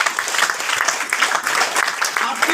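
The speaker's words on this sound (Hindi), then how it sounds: "एक जोरदार ताली।" An audience at a product training seminar breaks into a loud, continuous round of applause, dense and close, with no talking over it.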